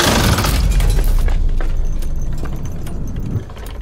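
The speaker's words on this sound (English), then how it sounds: "Clickety noises in a loop." Looping mechanical clicking of turning gears in the DARQ gears level, a dense rattling metallic texture that starts loud and thins out slightly over the loop.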